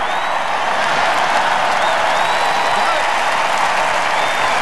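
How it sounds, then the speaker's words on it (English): Dense, steady convention-hall crowd applause with scattered whoops and cheers, loud and continuous throughout, filling the space without pause. "I bet you never thought Hillary would get an applause at this convention"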